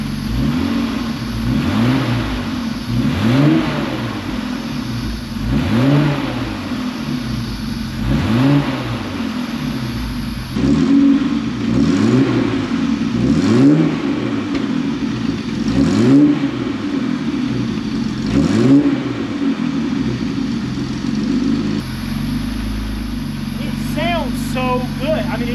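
A Mercedes SL Pagoda engine, revived after sitting 40 years and missing its last muffler, revs repeatedly in rising and falling sweeps of a mid-pitched note, loud and close, while someone talks over it.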